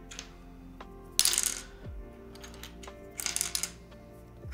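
Loose plastic keyboard keycaps are rummaged through in a bag, making two bright, clattering bursts of small hard pieces rattling together, close and fairly quiet against a low background hum.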